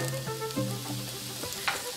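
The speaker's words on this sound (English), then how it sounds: "And now you can hear that sizzle." Garlic sizzling in hot oil in a pan while a crockpot roast is prepared: a continuous close crackle and hiss with a few faint clinks, no voices.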